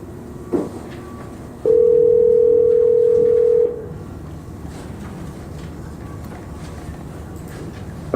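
A telephone dial tone while placing a call from a courtroom, a steady continuous electronic tone lasting about two seconds after a brief click, with quiet room noise before and after.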